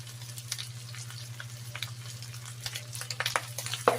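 Garlic added to a frying pan while cooking pork giniling, a close, steady sizzle with scattered crackles and a low hum beneath, no speech.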